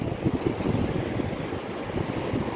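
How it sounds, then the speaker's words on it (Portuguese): Steady easterly wind buffeting the microphone on a sandy beach, a loud continuous low roar with gusty surges and surf-like rushing beneath, no voices. "Vento de leste."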